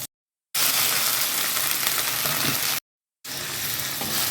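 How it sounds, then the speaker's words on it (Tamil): Tomatoes and onions sautéing in a pan for pirandai chutney, a loud steady sizzle that cuts out briefly twice, close up with no talk. "தக்காளி நல்லா வதக்கிக்கலாங்க. ஒரு 4 நிமிஷம் நல்லா வதக்கலாங்க."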